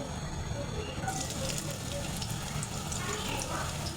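Chopped onion goes into hot oil in a pan already used for frying lentil dumplings, giving a steady, dense sizzle that continues evenly throughout at moderate loudness.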